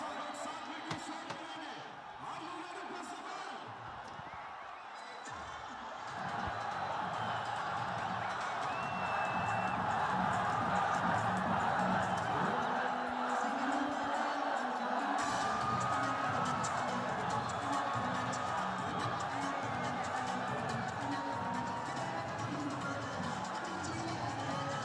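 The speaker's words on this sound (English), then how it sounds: "the crowd making the noise that they only make when Babar is around." A large cricket stadium crowd roars and cheers continuously at a live T20 match in Pakistan, the din swelling louder about a third of the way through and holding there, with a commentator's voice over it.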